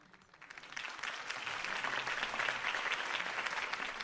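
Steady applause from a sizable crowd in a Batman video game, swelling in the first second and then holding a dense, even clatter of clapping.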